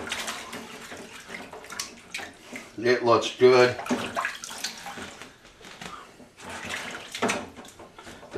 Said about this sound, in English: This is just bleach water here. I'm just swashing it around in here